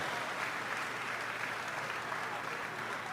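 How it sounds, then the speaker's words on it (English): A large crowd at a BlizzCon 2011 StarCraft II esports match applauds steadily and evenly throughout, a dense wash of clapping. "give another round of applause"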